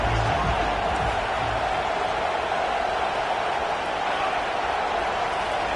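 Football stadium crowd on third down in a Florida versus Tennessee game, a broad, steady roar of massed cheering and noise that fills the whole stretch without letting up.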